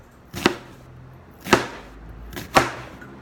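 Knife cutting through onion on a cutting board with the grain into thin slices, three separate sharp chops roughly one second apart, close and clear.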